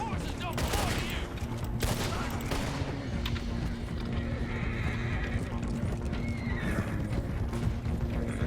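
Horses gallop in Red Dead Redemption 2 with a steady clatter of hooves and a whinny, mixed with gunfire and shouting in a busy, loud scene.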